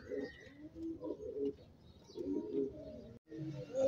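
Fancy pigeons with heavily feathered feet coo in their coop, giving soft, low, repeated throaty calls that overlap from several birds nearby.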